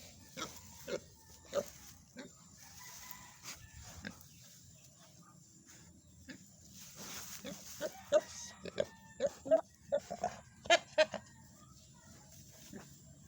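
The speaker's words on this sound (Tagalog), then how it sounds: "Tingnan nyo to, ang aming baboy." Pig grunts and snorts come in irregular bursts, growing busier toward the end, over a low farmyard background.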